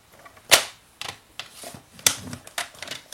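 A paper trimmer creasing a fold in cardboard for a mug box gives sharp, close clicks and snaps: two loud cracks with smaller scattered taps between them, and no talk.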